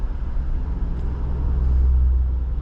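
2025 Infiniti QX80 Autograph SUV with a twin-turbo V6 and nine-speed gearbox accelerating, heard from inside as a low, muffled engine rumble that swells and grows louder toward the end.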